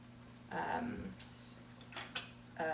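A plastic guard fitted onto a 4-in-1 mandolin slicer holding an onion quarter gives a few short clicks and clatters, close and fairly quiet, with brief bursts of handling noise.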